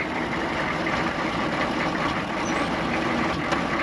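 1995 6.5L turbo diesel pickup truck engine running poorly, a rough, steady low diesel rumble with broad noisy clatter, close and constant with no talk.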